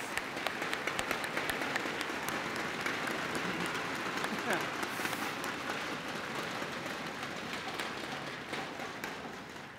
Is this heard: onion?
no